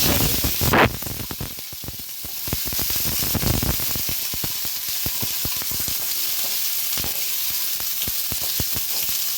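Chopped capsicum sizzles steadily in hot oil in a pan, a loud continuous frying hiss with stirring scrapes and crackles and no voices.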